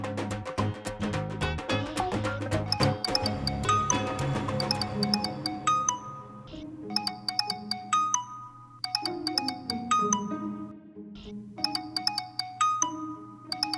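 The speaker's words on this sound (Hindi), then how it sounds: "कब से बज रहा है तुम्हारा फोन, सुनते क्यों नहीं हो?" A mobile phone ringtone plays loudly and repeatedly in a home scene from a Hindi TV comedy serial, a bright melodic tone recurring in bursts over about fourteen seconds with no talk over it.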